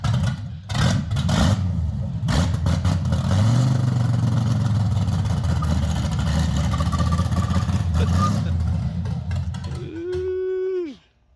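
A 1989 Chevy S10 Blazer with an LS engine swap and NV3500 transmission roars through a burnout, its loud engine holding a steady, gritty drone with clatter, then dropping to a tone that rises briefly before cutting off.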